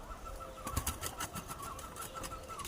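A pet pigeon in a cage gives soft, muffled calls amid rustling and scattered fluttery thumps, all fairly faint and close with no talking.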